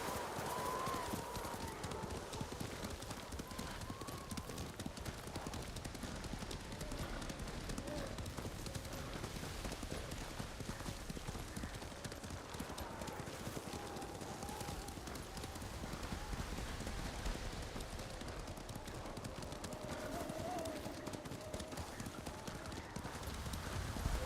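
Horse hooves clip-clop in a steady, continuous rhythm as a mount travels in the samurai game Ghost of Tsushima, running the whole stretch beneath a dense game soundscape with voices talking.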